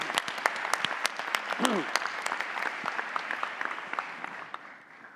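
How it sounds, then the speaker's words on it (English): A conference audience applauds during the opening plenary of a leadership conference in Ottawa, greeting a performing trio with dense, sustained clapping that gradually thins and fades toward the end. "So please sing your praises by applauding them"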